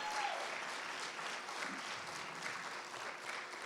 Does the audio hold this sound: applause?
yes